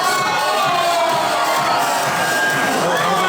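Crowd cheering and whooping inside a restaurant at Disney's Hollywood Studios, a dense, loud, continuous roar of many voices filling the room throughout.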